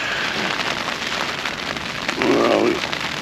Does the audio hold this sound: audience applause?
no